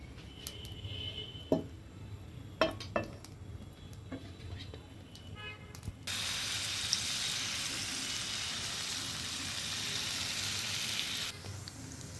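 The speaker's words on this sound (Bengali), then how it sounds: "এরপর আমি ভেজে নেব।" Patishapta pitha dough made with date-palm jaggery goes into a hot pan. A few sharp clinks and knocks come first, then a steady, even sizzle of frying that runs for several seconds before cutting off.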